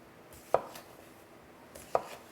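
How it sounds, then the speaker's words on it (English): A knife chops through potatoes for home fries on a cutting board, two crisp, sharp cuts spaced well apart against a quiet kitchen background. "So next we're going to cut our potatoes."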